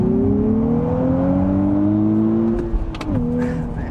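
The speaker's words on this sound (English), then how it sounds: "I really do love that induction note, and the way this motor sounds is really nice" A 2023 Nissan Z with a manual gearbox pulls hard under way, its engine and induction note rising steadily in a loud, continuous drone before a gear change briefly breaks the tone and it climbs again.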